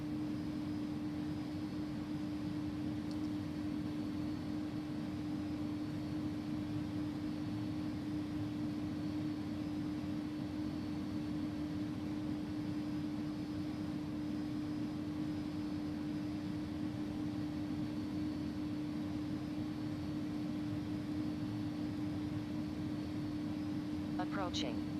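Airliner engines of an inibuilds A300-600R in X-Plane 11 hold a steady, loud drone with a constant tonal hum while lined up for takeoff on runway 34, unchanging throughout with no audible talk.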